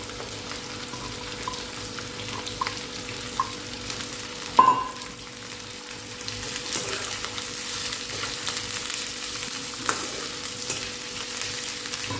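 Onion frying in a pan for a Marathi-style bitter gourd curry, a steady soft sizzle with occasional stirring scrapes and one sharp clink midway, no talking.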